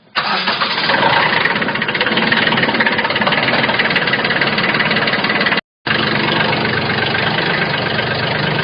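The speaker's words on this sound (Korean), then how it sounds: "이제 시동을 걸으면 되겠습니다" A Mecron 2230 carrier's engine cranks and catches, then settles into a steady, loud idle close by, briefly cut out for an instant before the idle resumes unchanged.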